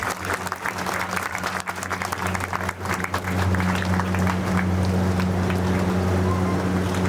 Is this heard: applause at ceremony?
yes